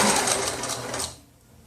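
An overlock sewing machine stitches a T-shirt hem on a baby look tee, a loud steady buzzing run for about a second before cutting off and fading to quiet.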